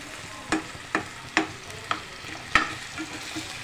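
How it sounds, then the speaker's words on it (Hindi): Garlic fries in olive oil for garlic potatoes, a soft steady sizzle broken by a series of sharp scraping clicks of a spoon stirring the pan at an irregular pace, close and fairly quiet. "सबसे पहले हमारा लहसुन फ्राई होगा"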